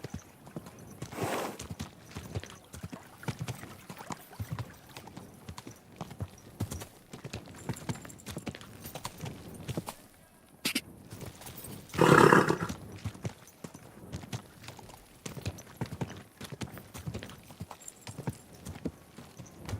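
Steady clip-clop of horse hooves galloping along a road in the video game Kingdom Come Deliverance 2, continuous and mid-close, with a brief louder burst partway through.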